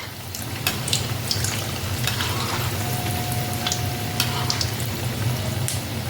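Aloo rice crispies fry in a preheated kadai over a medium flame, giving a steady, close sizzle with scattered sharp pops and crackles throughout.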